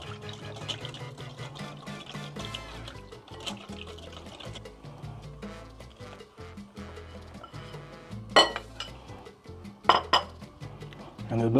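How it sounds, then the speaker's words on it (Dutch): A spoon stirs a milk and cornstarch mixture in a pot for Surinamese lapis, with steady clinks and scrapes against the metal and a couple of sharper knocks near the end. "En dit blijf je roeren."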